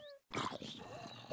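A pet dog on fire in a blocky survival video game lets out a brief, faint whine after a high tonal cue and a short gap, with a soft rustling bed underneath.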